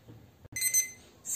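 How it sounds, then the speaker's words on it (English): Kitchen timer alarm going off, a close, shrill electronic beeping in short bursts after a brief click. "My timer has gone"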